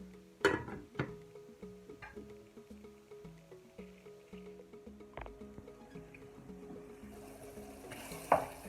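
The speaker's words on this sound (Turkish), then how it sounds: "yavaş yavaş soğanların lezzetini alacak işkembeler ve kavrulmuş olacak" Tripe being sautéed with onions in a pan, a soft steady sizzle with occasional sharp clinks and scrapes of a utensil against the pan, close and fairly quiet, with no talking.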